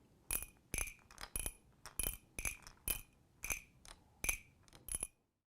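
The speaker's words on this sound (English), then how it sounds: "And then, of course, the cricket sound." A handheld cricket noisemaker, a percussion sound-effect toy, gives a run of about ten sharp, evenly spaced chirping clicks, faint and dry, then stops.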